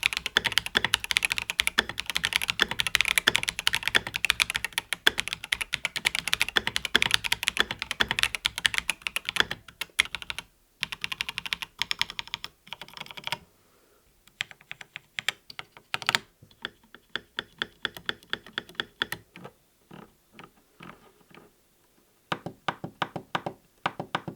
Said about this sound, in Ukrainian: На звук натиснення це сильно впливає. Послухайте самі.